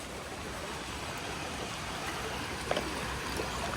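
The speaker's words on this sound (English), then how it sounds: "Very fast moving water here." Steady broadband rush of fast-moving, clear stream water near a bridge on the Appalachian Trail, continuous and fairly close with no voices.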